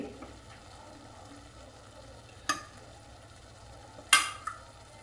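Boiled potatoes mashed into a white chickpea curry in a pot, with a low simmering bubble beneath two sharp metallic knocks of a spoon or masher against the pot rim and a few softer taps.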